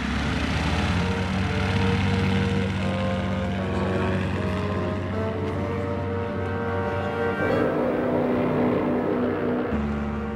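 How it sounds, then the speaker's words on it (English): German Gotha bombers of 1917 taking off, a steady loud multi-engine propeller drone with a low throbbing hum that persists throughout, shifting slightly in pitch near the end. "14 German Gotha bombers took off to bomb London."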